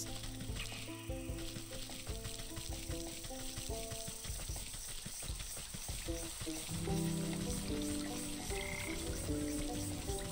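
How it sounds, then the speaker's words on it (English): Frogs croak repeatedly in the video game Wytchwood, a steady chorus of rhythmic calls running throughout over layered game music and ambience, with no talk. "We can catch some frogs while we're here"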